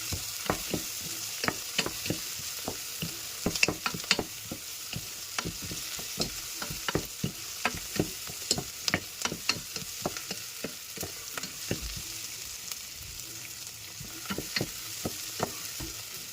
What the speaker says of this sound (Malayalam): നമുക്ക് കുറച്ച് മഞ്ഞൾപ്പൊടി ഇതിലേക്ക് ഒന്നിട്ട് കൊടുക്കാം. ഇളക്കി മിക്സ് ചെയ്യാം.